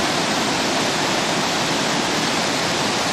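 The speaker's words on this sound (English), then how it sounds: "Discharging its water into Lake Yerongabilly" Water pours out of a tunnel outlet into Lake Yerongabilly, a reservoir in the Murrumbidgee scheme, making a loud, steady, broadband rushing roar with no pauses, close and alone without voices.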